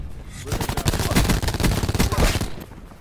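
Rapid gunfire rattles in a multiplayer shooter video game, with dense, overlapping bursts of loud shots filling about three seconds almost without pause and possible voices beneath.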